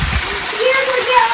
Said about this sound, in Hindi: पानी आ रहा है, देख सकते हो।